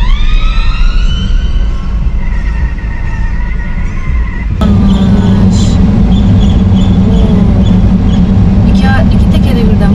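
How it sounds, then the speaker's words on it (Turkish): Police car siren wailing in a city street, loud and close, its rising and falling tone giving way to a steady engine and traffic roar partway through, with faint voices in the background. "2 tane polis arabası gelmiş."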